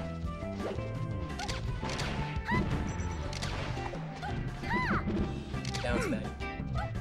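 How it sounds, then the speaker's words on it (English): Hits from a down smash attack in Super Smash Bros. Melee at a tournament, sharp crashing impacts and whooshes over dense game music and crowd noise, with people talking throughout. "Down smash."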